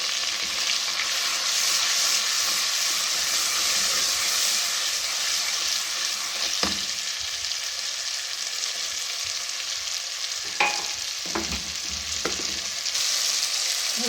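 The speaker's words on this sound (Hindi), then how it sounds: "मसाला हमने बहुत अच्छी तरह भूनना है" Spice masala of turmeric, red chilli powder and Kashmiri red chilli frying in a pan, a steady close sizzle and hiss throughout, broken by a few scraping stirs of a spoon near the end.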